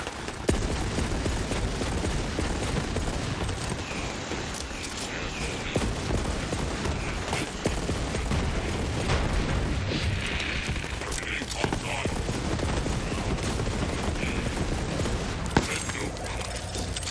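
Gunfire from shooting in the video game Borderlands 3 crackles in rapid scattered bursts over a dense mix of game effects, with people talking throughout.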